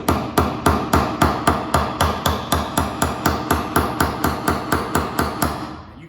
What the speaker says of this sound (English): You can get the nail in that way, but it just takes 100 hits to get it in.